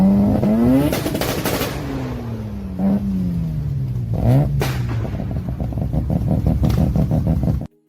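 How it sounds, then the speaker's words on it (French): A Mazda RX-7 rotary engine revs hard in several rising and falling sweeps, each climbing to a sharp peak and dropping back, then settles into a choppy, buzzing idle before cutting out abruptly. "une Mazda RX-7. Ce bruit de rotatif incroyable et si fragile à la fois"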